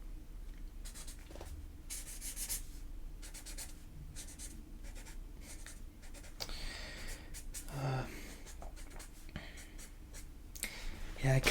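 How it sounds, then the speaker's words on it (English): Pencil drawing a portrait on paper, heard as continuous scratchy strokes with short pauses, fairly quiet and close, with a bit of breathing and rustling between strokes. "I'm gonna draw a bad portrait of you."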